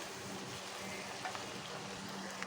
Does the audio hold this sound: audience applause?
no